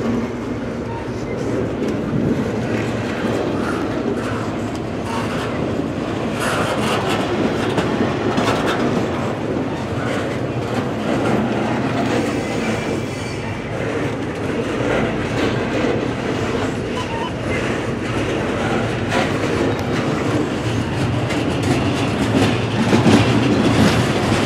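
A CSX container freight train rolls past close by in a steady, loud rumble with rhythmic wheel clatter and rail noise that continues unbroken throughout, and a voice is faintly present.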